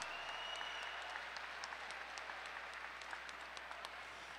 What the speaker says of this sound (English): a round of applause for 2 great fighters and one hell of a contest